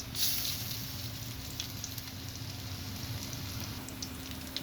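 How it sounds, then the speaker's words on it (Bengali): Steady, soft hiss of lentil pakoras frying in mustard oil, a constant bubbling sizzle close by with a faint low hum underneath and no voices. "এই পাকোড়াটা আপনারা সয়াবিন তেলেও ভাজতে পারেন আমি সরিষার তেল দিয়ে ভাজছি"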